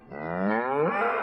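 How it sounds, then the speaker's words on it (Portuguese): A single cow gives a long, loud, close moo that rises and strains into a shrill, scream-like bellow, as if in pain, heard alone without other sounds. "eu ouvi um grito agudo de uma vaca que mais parecia um grito de dor"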